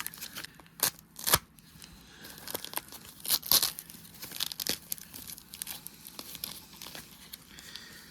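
Packaging around a vintage Case XX hunting knife with a sambar stag handle is torn and crinkled open, giving scattered papery rips and rustles with a few louder tearing bursts, close by and with no talking.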